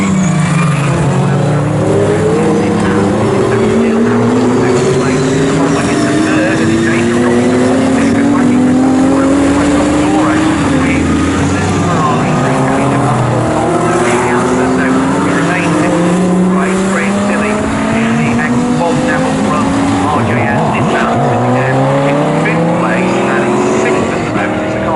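Lamborghini and Ferrari GT race cars of the GTC class in a GT Cup Championship race crossing the start-finish line, loud engines roaring and shifting pitch as several cars sweep past in succession, with a commentator talking over them.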